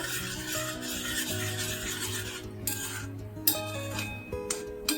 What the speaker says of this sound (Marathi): आता मी हे चांगलं मिक्स करून घेते.